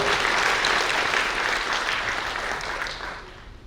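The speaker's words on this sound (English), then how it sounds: "I think it deserves the applause." An audience at the MRPL ceremony marking the arrival of an ONGC crude oil cargo applauds in a full, close round of clapping that gradually thins and fades toward the end.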